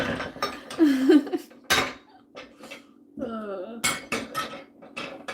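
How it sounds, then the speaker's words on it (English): Dishes, pots and pans being washed in a home kitchen during baking, giving intermittent close clinks and clatters with quiet gaps, while a voice briefly sounds in between. "I gotta wash off my dishes"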